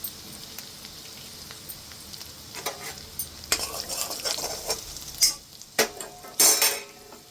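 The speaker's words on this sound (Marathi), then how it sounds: "शेंगा परतून घेऊया।" Bean pods sautéing with homemade masala and coriander powder in a pan, a soft steady sizzle broken by scraping stirs and metallic clinks of a spoon against the pan, growing busier toward the end.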